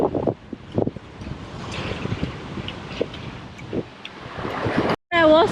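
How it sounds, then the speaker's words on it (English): Gusty wind buffets the microphone outdoors at Lookout Cay, with rushing, uneven noise and rough water washing beneath, ending in a brief cutout and a short burst. "It's just a little windy and the water is a little rough,"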